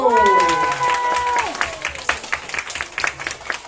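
An audience applauds and cheers at a live children's stage show, the clapping swelling in after a sustained musical tone and carrying on loudly as a dense crowd burst.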